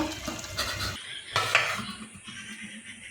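Metal lid set onto a pot of pomfret fish curry with eggplant and potato, a few close clanks and a bright clatter, then the quiet hiss of the simmering pot.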